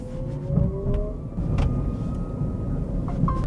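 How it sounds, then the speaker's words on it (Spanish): A small Leapmotor T03 electric car climbing a steep slope in eco mode, giving a steady low rumble of tyres and drivetrain with faint whine, close and continuous throughout. "Vamos a subir la cuestaca esta a ver qué tal."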